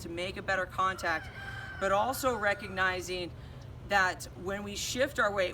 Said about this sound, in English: there's a rooster in the background if you heard that